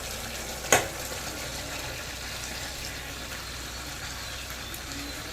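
Potatoes and cauliflower fry in spice paste with a steady, even sizzle. A single sharp utensil clank sounds early on.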